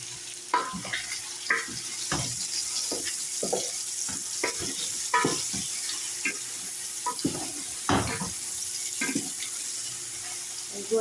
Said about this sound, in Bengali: গোশটারে হালকা একটু ভাজি করে দিচ্ছি।